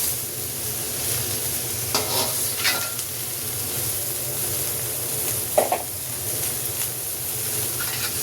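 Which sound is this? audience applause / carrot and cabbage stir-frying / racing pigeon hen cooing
carrot and cabbage stir-frying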